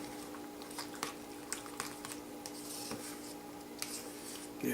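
Spoon stirring a Just Crack An Egg microwave cup of beaten egg and cheese, giving soft, faint wet squishing and scraping taps at an irregular rhythm, close up with a steady background hum.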